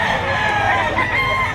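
A rooster crows at a busy Saturday chicken market behind a mall in Lipa, Batangas, a steady loud call with clucking fowl and crowd murmur around it.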